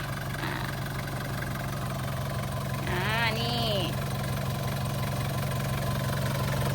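A Nissan Big M pickup with a TD25 diesel engine idles steadily in the background, a smooth low rumble heard under someone talking close by.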